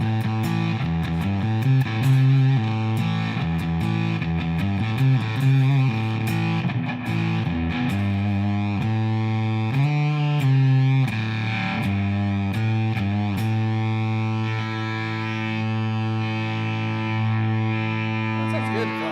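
An instrument played through a reverb and effects unit rings out in sustained harmonic notes and short phrases, each trailing into a long echoing wash at a fairly loud, close level.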